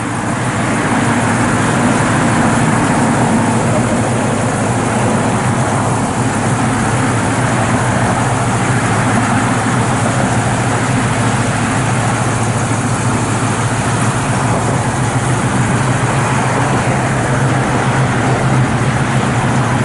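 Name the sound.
classic car V8 engine idling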